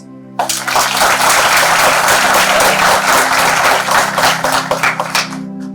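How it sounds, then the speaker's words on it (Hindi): A room full of people breaks into loud, dense clapping applause after a brief quiet moment, sustained and close, thinning slightly toward the end over a low steady hum. "ताली बजती है"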